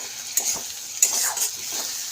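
Ginger garlic paste frying with browned onions in a pan, a steady close sizzle broken by a few sharp scraping stirs, no voices.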